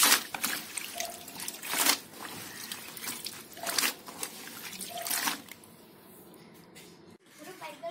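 Clothes, including a shirt, are washed by hand in water, making repeated splashy sloshes and trickles in uneven bursts up close before the sound quiets near the end.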